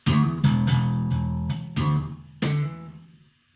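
Electric bass guitar plays a funky octave line, plucked notes jumping between low and high octaves in a quick, bouncy rhythm, loud and close, with the last note ringing out alone.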